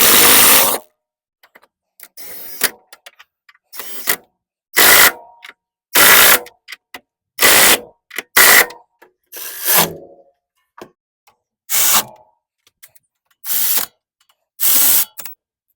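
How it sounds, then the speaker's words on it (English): A hand ratchet tightens a 40mm bolt on an Acura Integra shock absorber during suspension work: about a dozen short, sharp clicking bursts, evenly spaced with silent gaps, close and loud. "then I tighten that 40mm bolt"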